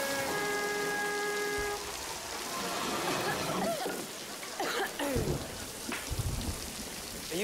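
Steady rain falls throughout, a continuous patter and hiss on surfaces, while a voice makes sounds and some scattered clatter and knocks break through.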